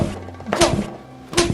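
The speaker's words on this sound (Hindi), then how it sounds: "अरे अरे इतना भी मत मारो यार" Two dull, close thumps of someone being hit in a comedy skit land about a second apart over a noisy indoor background.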